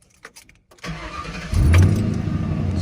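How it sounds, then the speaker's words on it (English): A 2011 Ford Crown Victoria P71 police-package sedan with dual exhaust, muffler delete and 4-inch chrome-tipped pipes cranks briefly, then catches and fires into a loud, close, rumbling idle. "let's start her up so you can hear what she sounds like."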